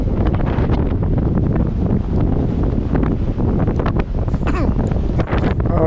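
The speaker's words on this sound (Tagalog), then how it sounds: "Medyo malakas ang hangin dyan." Strong wind gusts buffet the microphone continuously outdoors on the deck beside a cruise ship, loud and rumbling throughout, with faint water and ship noise beneath.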